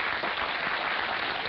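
A television studio audience applauds during a Dutch talk show, a brief dense wash of clapping at steady loudness.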